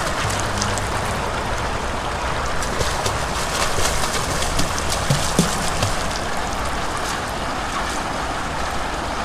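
Swimming pool water filter running, a steady loud rushing and churning of water filling the space with constant noise and no talk.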